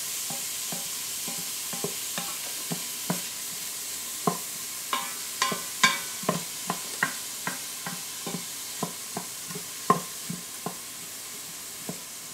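Minced yellow onion and three garlic cloves sauté in an Instant Pot. A utensil stirs with regular light taps and scrapes over a faint, steady sizzle, close by with no talking.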